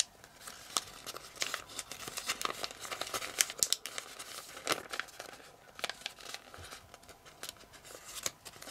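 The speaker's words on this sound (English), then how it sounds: "fold it down to the bottom as you remake the two folds" Crisp origami paper is folded down while two folds are remade, giving a steady run of close, light crinkles and rustles with sharp crackling bursts throughout, no voices.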